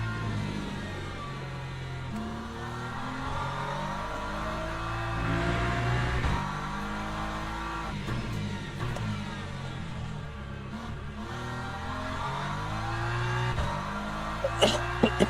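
A GT3 race car engine in the Le Mans Ultimate sim, racing in the rain, drones steadily through the whole stretch, its pitch climbing and dropping through gear changes, with a few sharp clicks near the end.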